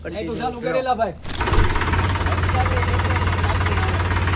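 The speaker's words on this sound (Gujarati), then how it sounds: "હા ટ્રેક્ટર અમારે ચાલુ થઈ ગયું છે." A new Mahindra tractor's engine starts and idles, chugging at a steady, even rhythm that is loud and close, after someone speaks briefly at the start.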